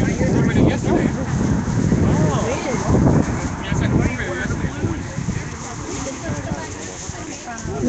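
Strong wind buffets an outdoor microphone on a very cold day, a steady broadband roar and rumble with gusty swells throughout, with muffled voices faintly underneath.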